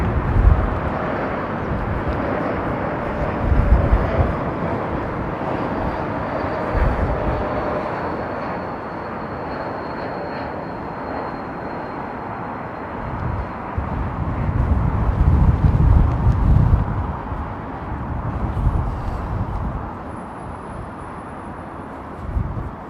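Boeing 747 arrivals, a Cathay Cargo and an Air China jumbo, landing on Heathrow runway 27L, heard as a distant, steady jet roar with a faint engine whine, buffeted by wind gusts and low rumbling surges throughout.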